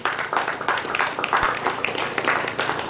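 An outdoor audience at a Guyana Region 6 Independence Anniversary flag raising ceremony claps steadily, a dense patter of many hands kept up for a few seconds.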